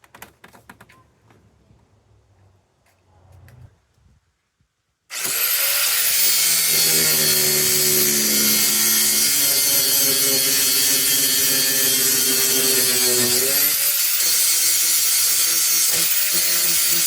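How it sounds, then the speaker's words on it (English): An angle grinder cuts into a stripped 10 mm bolt during a second car battery install, bursting in loud and steady after a few seconds of quiet shuffling and running on without a break, close by. "Brent, I need the grinder."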